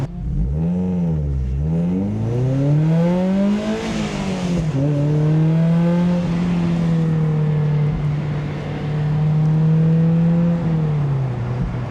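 A Mazda NC Miata at speed on a race track, its engine droning loud and close from the cockpit, climbing and dropping through revs with gear changes, then holding a steady high note.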